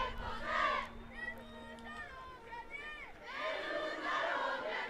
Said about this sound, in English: Some French cheering from the under-20 women's contingent